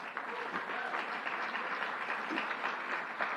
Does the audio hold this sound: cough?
no